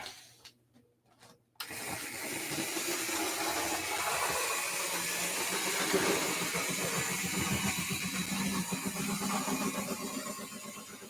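HO scale model locomotive, Grand Trunk Western 6039 U-1c, starting up and running with its wheels slipping, a sudden onset of a steady motor drone and rumble that continues for about nine seconds.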